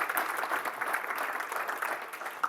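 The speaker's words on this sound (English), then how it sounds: "Big round of applause for Maggie." Audience applause for Maggie after an office-hours talk, a soft, even patter of many hands that stays faint and steady throughout without any voices on top.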